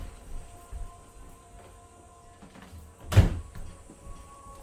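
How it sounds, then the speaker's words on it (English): A room door being shut at a home investigation setup, a single dull thud close by after several seconds of quiet room noise and faint shuffling. "Hold on, I gotta shut this door."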